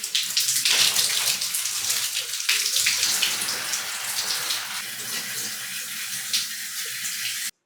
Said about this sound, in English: The shower is done. I can say it was an everything shower and I loved it.